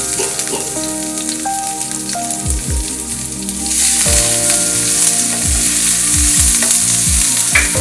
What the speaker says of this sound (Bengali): রসুনগুলো আমাদের হালকা ফ্রাই হয়ে গেছে